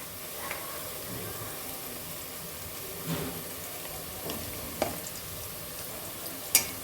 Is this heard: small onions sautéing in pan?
yes